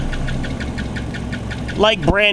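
A first-generation Ford Focus engine with an EGR flange fault idles with a steady, rough low throb, running close and continuous; a voice cuts in near the end.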